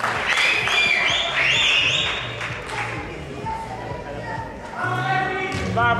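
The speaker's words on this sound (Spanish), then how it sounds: "Un aplauso." An audience applauds at the 2011 IFBB Northern Spain bodybuilding championship, a steady crowd clapping beneath loud music, with voices shouting over it.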